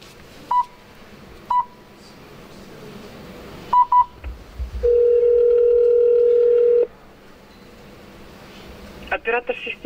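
Car GLONASS emergency call after the red button is pressed: several short beeps, then a long steady tone as the signal goes out to the operator, with a burst of beeps at the end and no speech.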